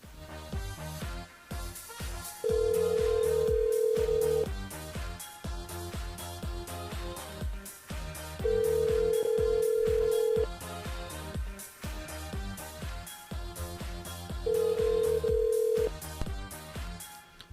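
A telephone rings on the line during a radio call-in show, sounding three long, bright electronic rings at regular intervals over busy background music.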